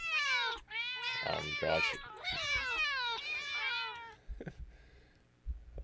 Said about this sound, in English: You look behind and you only see a dozen of cats standing there.